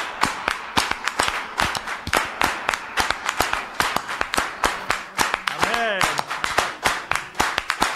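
A worship congregation claps in acclamation, steady quick handclaps from many people mixed with scattered taps, loud and near, with a brief vocal sound partway through.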